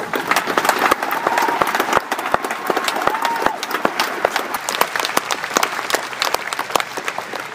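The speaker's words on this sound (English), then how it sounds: "If everyone could please give them a round of applause" Sustained applause from a crowd at a eulogy for a husband, dense steady clapping filling the whole stretch with a few sharper individual claps standing out.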